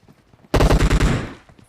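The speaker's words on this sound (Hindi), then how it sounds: "वो फायर भी करता है।" Automatic gunfire in the PUBG Mobile shooter game: one loud, close burst of about half a dozen rapid shots, followed by a short decaying echo.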